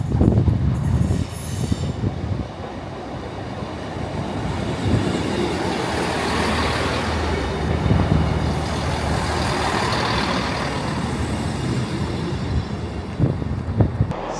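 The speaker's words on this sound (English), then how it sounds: "158829 is now on the platform, and that's my train to Shrewsbury" Transport for Wales train 158829 pulls into a station platform with a rumbling diesel engine, clanking wheels and squealing brakes, steady and moderately loud throughout, with a hiss near the end.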